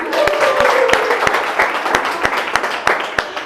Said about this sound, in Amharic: እሺ ለራሳችሁ አጨብጭቡ።